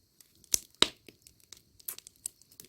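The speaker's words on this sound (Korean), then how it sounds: "장작 불에 타는 소리가 아마 들리실 겁니다." Firewood burning in an outdoor fire used to boil laundry gives scattered, faint crackles and sharp pops, irregularly spaced with quiet gaps between them and no voices.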